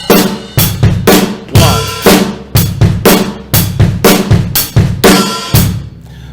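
A drum kit plays a bass and snare groove, loud, close hits in a steady repeating bass, snare, bass, bass, snare pattern with ringing cymbals, no voice.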